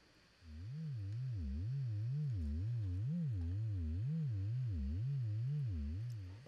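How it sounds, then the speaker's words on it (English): A VCV Rack synthesizer tone wobbles steadily in pitch, its pulsing, uneven modulation coming from a sine LFO combined with a triangle LFO. The tone is sustained and alone, fading in at the start and holding for several seconds. "we get a more unusual, unpredictable waveform because it's the combination of a sine wave and a triangle wave at different frequencies."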